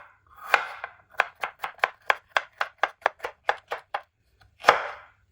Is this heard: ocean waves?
no